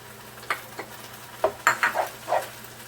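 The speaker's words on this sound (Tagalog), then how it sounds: "ilagay na natin yung ating carrots" Carrots drop into a pan of sardine sotanghon noodles with sauce, giving several soft, close clatters and stirring scrapes over a faint sizzle, spaced irregularly across a few seconds.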